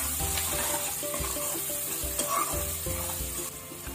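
Garlic frying in a pan with onions for a Marathi dried ribbon fish curry, a constant close sizzle broken by a repeated rhythmic scraping of a spoon stirring against the pan.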